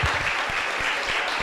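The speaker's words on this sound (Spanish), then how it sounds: "Dale un aplauso al Señor" A church congregation in Mar del Plata breaks into applause, a dense, steady clatter of many hands clapping close by, with a few sharper individual claps standing out, under faint voices.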